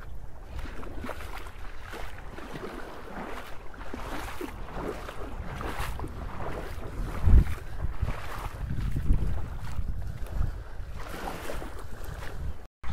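A small boat moves across the Red Sea near a tiny sandy island, with a continuous rushing drone of hull, water and wind that swells briefly in places and runs steadily without talk.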